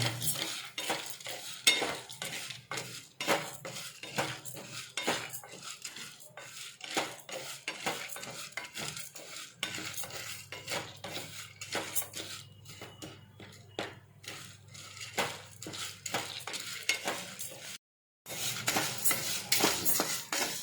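Chana dal with curry leaves and dried red chillies dry-roasting in a pan, a spoon scraping and stirring in frequent close clinks and rasps over a faint sizzle, with one brief silent break.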